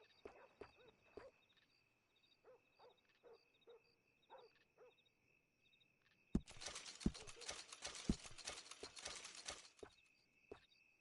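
Horse hooves clip-clop in a PS4 video game, spaced steps on a quiet surface with a steady high game tone, then a loud dense burst of noise takes over with more hoof-like thumps underneath.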